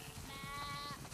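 Sheep bleating inside The Last of Us Part II, a flock being herded toward a barn; a sustained, close, fairly loud bleat with layered calls over steady game ambience.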